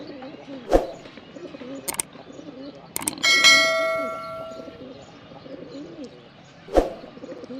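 A male pigeon calls with soft, repeated cooing close by, while sharp metallic clangs and a ringing bell-like tone break in at intervals.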